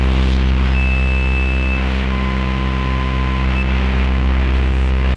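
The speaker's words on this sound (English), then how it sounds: "So we can create these experimental drone patches with the radio." An Arturia MiniBrute 2 synthesizer plays a loud, steady experimental drone patch with a radio feeding in as a noise source. Thick low hum layers hold throughout while thin high tones briefly appear and fade.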